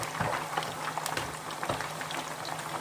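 Catfish pieces frying in hot oil, a dense, steady bubbling crackle with scattered sharper pops, close and even throughout with no voices.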